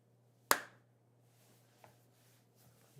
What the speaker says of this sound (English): I'll do a quick clap for you guys so we can see if there's a delay